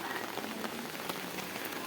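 Heavy rain falls steadily in the fog-covered hills of Kumaon, a dense, continuous hiss of drops drumming on surfaces close by, with no voices over it.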